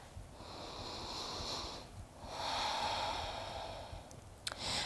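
Long, audible breaths during a yoga stretch, two drawn-out hissing exhales with a short gap, soft and near, followed by a small catch of air at the end.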